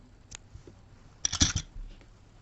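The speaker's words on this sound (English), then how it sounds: "And I'm going to fasten it off, cut your yarn." Scissors snip through crochet yarn close by: a faint early click, then a brief cluster of two or three crisp cutting sounds in a quiet room.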